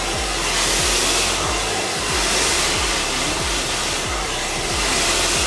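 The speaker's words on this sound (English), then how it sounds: "as you blow dry, you want to start off from the ends and work your way up" Blow dryer running continuously on hair during a styling session, with a loud, steady close whoosh of hot air and slight rhythmic fluttering as it moves.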